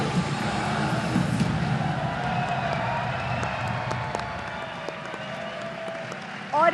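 An audience applauds the launch of an e-commerce portal at an event in Pakistan: a steady, dense wash of clapping and crowd noise that holds evenly throughout before a brief bump at the very end.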